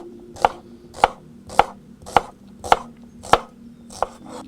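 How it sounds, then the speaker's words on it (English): Knife slicing an onion thinly on a cutting board for a garden salad, seven crisp, evenly spaced cuts about half a second apart, close and distinct. "We can slice the onion"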